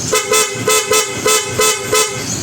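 A PIAA horn fitted to a Honda ADV160 scooter sounds in six short, evenly spaced blasts, loud and close, each a bright, buzzing two-tone honk.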